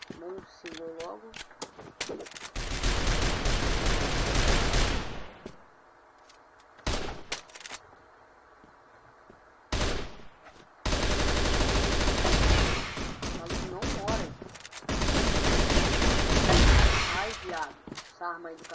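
Rapid automatic gunfire from a weapon in a first-person shooter video game comes in three loud sustained bursts separated by pauses, with a voice talking over parts of it.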